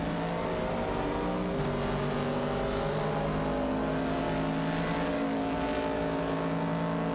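Video game race with a Ford Mustang Boss and a 1970 Pontiac Firebird among the field: steady, dense engine drone of several cars at high revs, constant and loud throughout, with subtle pitch shifts as they jostle.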